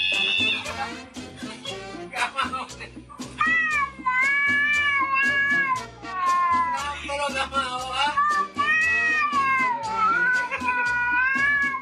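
A cat meows repeatedly in long, wavering, almost talking-like calls, close and clear, with varied pitch and short pauses between.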